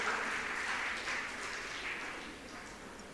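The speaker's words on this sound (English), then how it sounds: "Let's give a round of applause for their animation." Audience applause at a community day felicitation event at St. Mary's, Vellore, a soft, distant wash of clapping that fades slightly toward the end.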